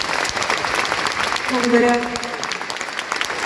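Concert audience applauding a singer at a jubilee concert in a hall, a brief burst of clapping with a voice speaking over it partway through.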